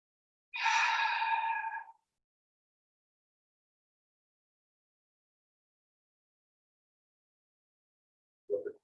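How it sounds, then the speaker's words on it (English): A yoga instructor during a class takes one audible, voiced, sigh-like breath lasting over a second, followed by long silence and a faint sound at the very end. "Take a breath in."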